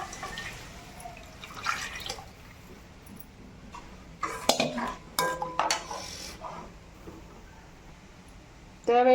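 Tamarind water mixed with chili powder poured into a cooking pot of kuzhambu, giving liquid splashes and clinks of a vessel against the pot amid faint kitchen noise, ending with a brief louder scrape.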